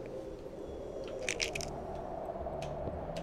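Cracking sound from a video game as hands are pulled out, a few crisp crunchy snaps in quick succession over a steady low background hum, with no talking.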